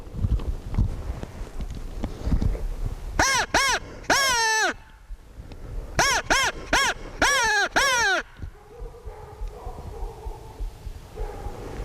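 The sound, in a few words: crow call device imitating crow caws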